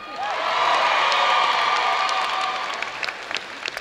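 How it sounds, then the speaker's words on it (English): A university convocation audience applauds warmly for the newly introduced president of Eastern Michigan University, the clapping swelling quickly, holding, then thinning out into a few scattered claps near the end. "that's okay, you can clap"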